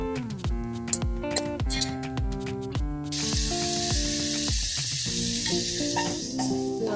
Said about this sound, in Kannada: ಈರುಳ್ಳಿ ಹಾಕಬೇಕು, ಕರಿಬೇವು ಹಾಕಬೇಕು, ಒಂದು ಸ್ವಲ್ಪ ಬೇಯಬೇಕು.